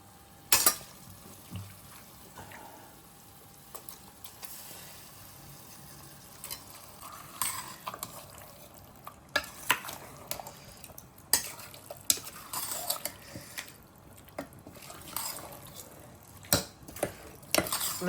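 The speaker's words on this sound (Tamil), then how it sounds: "இப்போ வந்து ஊற வச்ச சிக்கன் எடுத்து உள்ளே போட போகிறோம்" Marinated chicken is tipped into biryani masala in a cooking pot, giving scattered clanks of utensils against metal, wet plops and stirring scrapes that are moderately loud and close, with no talking.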